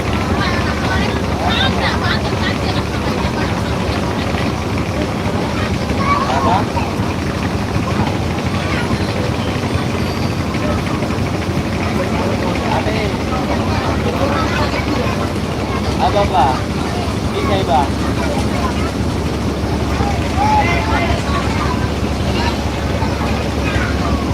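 Barisal passenger launch on a river, a steady loud engine drone with wind and water rush filling the whole span, a voice talking faintly underneath at times.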